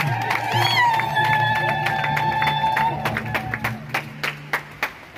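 Applause and scattered clapping from a congregation at a Catholic grotto blessing ceremony, a continuous wash of hands fading into separate claps toward the end, with faint voices and a sustained tone in the background.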